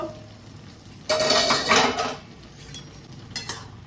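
Metal lid lifted off a cooking pot of chana dal with potatoes, a short clattering scrape of metal on metal followed by a couple of lighter clinks, close and clear.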